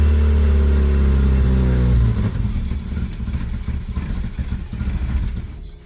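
A 1983 Volkswagen GTI engine cranking and catching on a cold start, first a heavy even drone, then settling into a rough, uneven idle with clattering pulses, close by.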